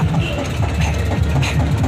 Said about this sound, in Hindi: हमारी ट्रैक्टर ट्रालियों का एक जत्था